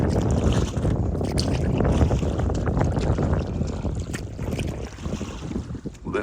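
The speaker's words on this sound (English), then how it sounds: "A bit windy though." Wind blows hard while canoeing on Chittenden Reservoir in Vermont, a loud, continuous gusting roar buffeting the microphone with faint water sounds beneath and no talking.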